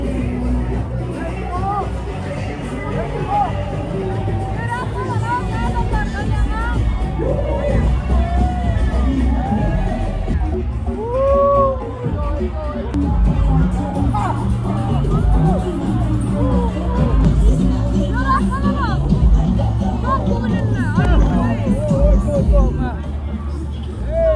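A large crowd shouts, cheers and whoops during the Songkran water festival in Bangkok, a dense continuous hubbub of voices with excited calls rising throughout, and people talking close by amid the din.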